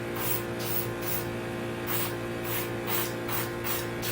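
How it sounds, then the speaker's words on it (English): An airbrush sprays paint onto junk mail as a test while weathering model railway pieces, giving a continuous close hiss that swells in regular pulsing bursts about every half second. "see how much paint you're getting out of your airbrush"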